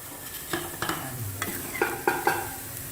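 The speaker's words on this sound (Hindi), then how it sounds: "अब मैं प्याज निकालने लगी हूँ।" Golden-browned onions stirred in a frying pan and scooped out onto a plate, with several close scraping and clinking strokes over a low steady sizzle, no talking.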